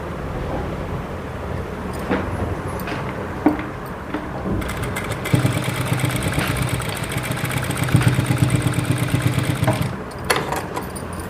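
Sewing machine running steadily while stitching thin piping onto a blouse, a continuous mechanical whir that starts up partway through and rises in a rapid rattling rhythm, with no one speaking.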